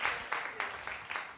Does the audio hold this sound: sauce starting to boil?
no